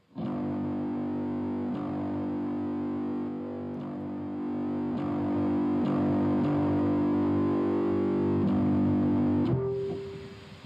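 A heavily distorted bass guitar tone from a Line 6 Helix at default settings sustains loudly and continuously, with a few slight shifts before cutting off near the end.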